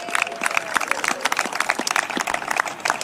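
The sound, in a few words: round of applause for young football team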